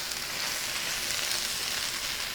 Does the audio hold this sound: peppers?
yes